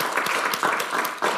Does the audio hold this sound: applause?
yes